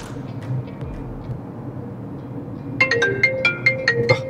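A mobile phone ringtone starts up after a few seconds of muffled background noise and plays a repeating pulsed melody, fairly close and clear, for an incoming call.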